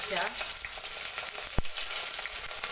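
Onion frying in oil in a pan after peanuts have been fried, a steady, close hiss and crackle of sizzling with one brief sharp knock, no talk.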